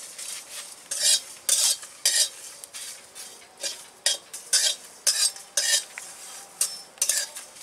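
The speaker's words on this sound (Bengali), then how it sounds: "এলাচ দিয়ে দিলাম ভেজে নেব এটা এবার ভালো করে" A dozen or so sharp, rhythmic metal scrapes of a spoon in a pan as whole spices and four or five cardamom pods are stirred and dry-fried, over a light sizzle with no voices.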